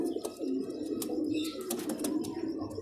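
Female Shahjahani pigeon cooing softly at close range, a low murmuring coo over a steady background with faint chirps, no talk.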